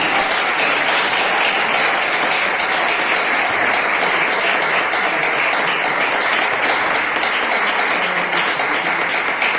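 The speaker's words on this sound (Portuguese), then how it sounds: "Batendo palmas bem forte para Jesus." Congregation in a Pentecostal church service giving loud, sustained applause for Jesus, a dense continuous wash of clapping from many hands that fills the whole stretch.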